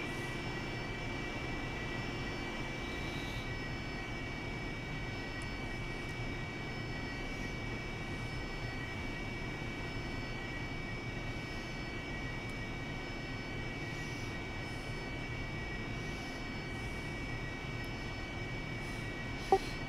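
Steady, continuous A-10 Warthog jet engine drone in a flight sim, a constant broadband roar with a sustained whine that holds level for the whole stretch, with no talk over it.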